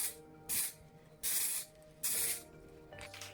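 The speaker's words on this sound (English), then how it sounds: "I'm going to keep watching where I actually spray, so I don't spray inside" Three short hissing bursts of spray paint from an aerosol can indoors in a room, evenly spaced, with a softer fourth burst at the end, quiet and nearby.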